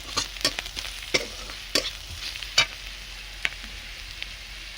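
Onions fried until reddish in a pan with dried chili powder added, a soft continuous sizzle broken by scattered sharp pops and light spatula taps, close and fairly quiet.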